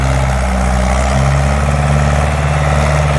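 A Ford New Holland 6610 farm tractor's diesel engine runs loud and close, a steady low throbbing rumble with a slight rise in pitch partway through and no voices over it.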